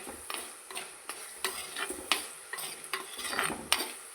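About a quarter kilo of small shallots sautéed in a pan for a special chicken dish, a steady sizzle broken by regular scraping stirs, roughly one every half second, close and moderately loud with no talking.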